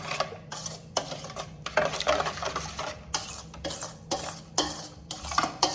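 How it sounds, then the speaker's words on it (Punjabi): A spoon stirs and beats batter in a bowl until creamy, making repeated close scraping and clattering strokes in an uneven rhythm with no talking. "ਚੰਗੀ ਤਰ੍ਹਾਂ ਇਹਨੂੰ ਕਰੀਮੀ ਬਣਾ ਲਓ ਮਿਕਸ ਕਰੋ ਇਹਨੂੰ ਚੰਗੀ ਤਰ੍ਹਾਂ"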